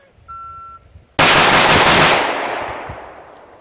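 AK74 rifle with a muzzle device firing a rapid burst of shots, loud and close, with a sharp onset and a ringing decay that fades over a couple of seconds, preceded by a faint electronic beep.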